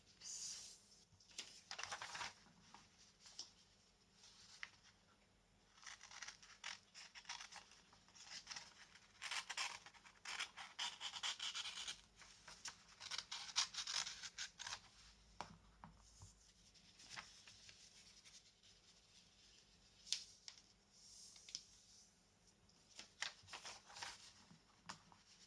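Scissors snip pink paper into stripes for a kitchen roll tube craft, a quiet, close run of irregular crisp cuts and paper rustles with short pauses between bursts.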